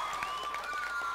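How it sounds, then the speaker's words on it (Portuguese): Audience applause in a packed cinema hall during a student academic olympiad gala, a short stretch of dense, steady clapping with faint voices and a sustained tone running through it. "Quero pedir uma salva de palmas para vocês."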